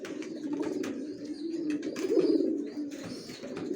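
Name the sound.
racer pigeons cooing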